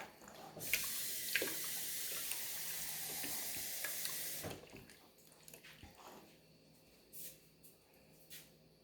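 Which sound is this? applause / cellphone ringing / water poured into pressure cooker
water poured into pressure cooker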